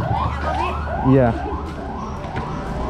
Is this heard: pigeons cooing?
no